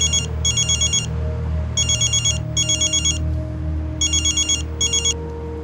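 A telephone rings in repeated double bursts of bright electronic trills, with short pauses between them, over a low steady hum in an indoor room.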